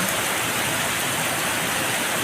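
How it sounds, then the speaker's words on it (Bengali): Heavy rain pouring down over city buildings in Dhaka, a dense, steady, loud hiss of falling water with no pauses or other sounds. "ঢাকা প্রচুর বৃষ্টি এই দেখেন বিল্ডিংগুলা"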